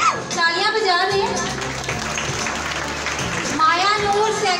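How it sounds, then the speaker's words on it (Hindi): Applause at a school annual prize distribution ceremony in Hasan Abdal: a crowd claps steadily throughout under a louder tonal voice or music, with no clear break in the clapping. "तालियां बजा दें।"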